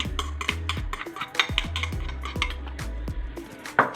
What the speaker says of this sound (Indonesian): Terus kalau udah kita aduk.